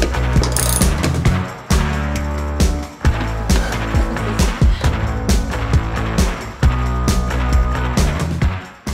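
Wrenches loosen unrusted bolts holding the seats in a school bus, producing loud, fast ratcheting clicks in repeated bursts with metallic clanks between them, close and echoing inside the bus.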